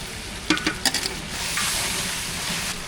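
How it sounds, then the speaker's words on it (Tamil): Onions and tomatoes sauté with mint and coriander leaves for a vegetable biryani, giving a steady broadband sizzle and a few quick spoon-stirring scrapes near the start. "வெங்காயம் தக்காளி நல்லா வதங்கிட்டு புதினா மல்லிக்கீரை சேர்த்துக்கலாம்"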